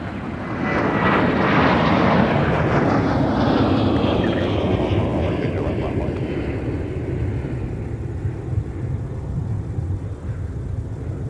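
A Sun Country airliner takes off from runway 30 left at Minneapolis–St. Paul airport, a loud sustained jet roar that swells and then slowly fades as it climbs away.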